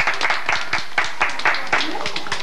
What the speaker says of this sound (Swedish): Det är värt en applåd tycker jag.